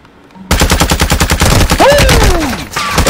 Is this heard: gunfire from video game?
yes